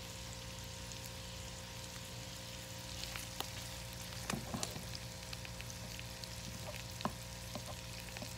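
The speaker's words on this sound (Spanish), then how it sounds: "Les hice unas rajitas de cebolla para que se sazonara el aceite." Onion slices fry quietly in oil being seasoned in a pan, a soft, constant sizzle with scattered small pops and clicks from the pan, heard close up with no talking.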